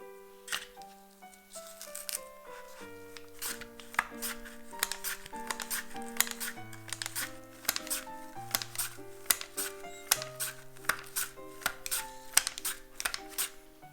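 A knife slices peeled potatoes on a board in quick, regular taps. Soft music with sustained tones plays underneath.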